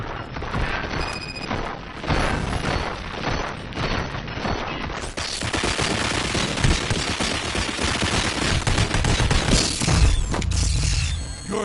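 Heavy gunfire from the game RoboCop: Rogue City: dense, sustained bursts of automatic fire with loud impacts and crashes that rise into a louder barrage halfway through, keeping a continuous, close and aggressive texture throughout.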